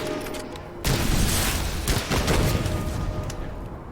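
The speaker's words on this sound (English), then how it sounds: "These guys have some pretty powerful muskets." Heavy musket volleys from enemies in the dark fantasy roguelite shooter Witchfire, a dense burst of loud, overlapping booming gunfire sustained for several seconds.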